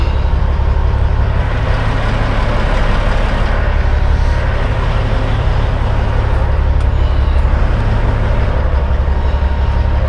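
A semi truck on a less-than-truckload run reverses toward loading dock door number one. Its diesel engine gives a loud, steady, deep rumble heard from inside the cab, without pause.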